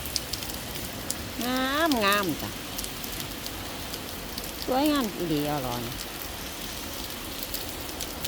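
Steady rain patters throughout while someone speaks in two short bursts, her voice rising over the constant wash of falling drops.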